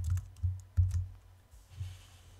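Several quick keystrokes on a computer keyboard, close and soft, in a short irregular burst.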